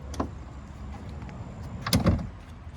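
A sliding side door on a small campervan rolls open with a soft rumble, then ends in a louder clunk and rattle near the end. The sound is fairly quiet and close, with no talking.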